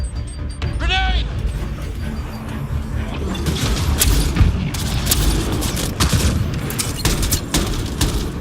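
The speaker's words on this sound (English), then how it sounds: "Grenade!" A grenade blast in the sci-fi shooter Mass Effect: Andromeda hits as a dense, rumbling boom within continuous combat noise, with crackling gunfire and a shouted warning at the start.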